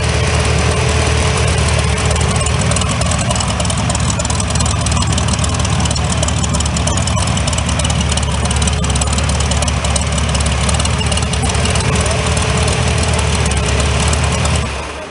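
A 110 horsepower Monza engine in a Corsa idles on a cold day, its loud, steady low rumble running evenly for about fifteen seconds before tapering at the very end.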